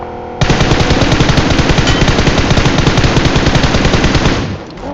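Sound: gunfire in video game PUBG Mobile

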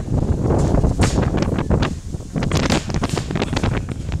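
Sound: strong wind

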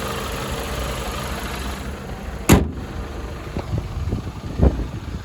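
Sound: Dacia Sandero Stepway 1.6 MPI engine running

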